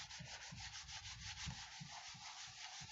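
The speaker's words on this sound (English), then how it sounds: "Could just open up the card too and give it a good rub" A card is rubbed firmly so adhesive grips a textured background during papercraft work with artistic dies. The rubbing is soft, close and dry, moving in an even back-and-forth rhythm of repeated strokes with no talk.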